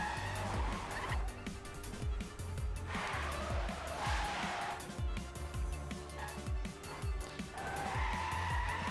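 A race car in a 24-hour racing video game does a burnout, tires squealing and skidding in repeated bursts over a continuous engine roar, with a voice talking faintly underneath.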